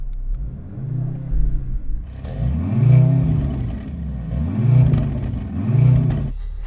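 A stationary performance car engine, likely a Mercedes-AMG C63, BMW M3 Touring or Audi RS4 Competition, revs repeatedly: four loud rising-and-falling blips with deep rumble between them, close and without talk.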